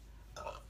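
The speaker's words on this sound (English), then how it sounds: "I'm like burping" A person burps once, a short, close belch lasting about a quarter second, heard faintly over quiet room noise.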